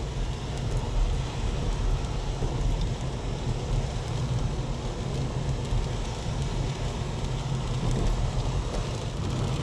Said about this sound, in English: Still raining out there though